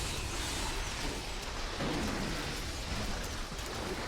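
A lightning attack in Diablo 3 crackles and roars as a dense, sustained electrical rumble, loud and unbroken across the whole stretch with no voices.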